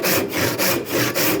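A hand saw works through wood in quick back-and-forth strokes, about five rasping passes in just over a second, close and loud with no voices.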